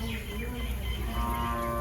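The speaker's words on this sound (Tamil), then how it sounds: "மாடு கூப்பிடுது போறியா?" A cow moos in a rural Tamil village, a long low steady call that sits quietly in the background alongside faint bird chirps and ambient noise.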